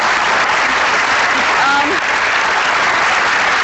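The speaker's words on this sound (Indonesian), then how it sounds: "Tepuk tangan dong buat Syahrini" Studio audience applause on an evening talk show, a loud, dense and steady burst of clapping from a large crowd that lasts the whole stretch, with faint voices underneath.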